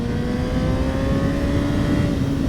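A 2021 Honda CBR 1000 RR sport motorcycle engine holds a steady, loud drone at about 7,000 rpm while riding, with a constant tone and no spoken voices.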